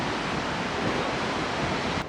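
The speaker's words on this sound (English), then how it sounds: "It's a little bit windy." Steady, loud rushing wind buffets the microphone on a cruise ship balcony at sea, a broad roar like open sea air with no voices.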